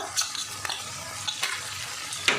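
Chili powder being stirred into a frying pan with turmeric, a soft steady sizzle under a few light scrapes of the spoon, close and fairly quiet, with no talking.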